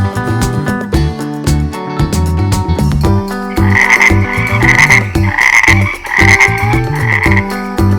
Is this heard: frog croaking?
yes